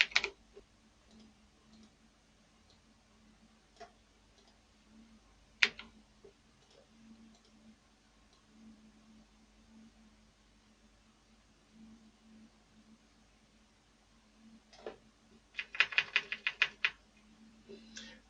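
A computer keyboard clicks faintly while text is typed into Microsoft Word, scattered sparse keystrokes in a quiet room, ending in a quick burst of several taps.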